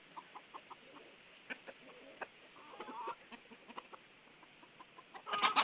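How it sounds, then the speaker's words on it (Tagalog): Soft, scattered clucking from chickens at a distance, quiet and intermittent, ending in a sharper burst of calls. "Naghahabol siya ng manok."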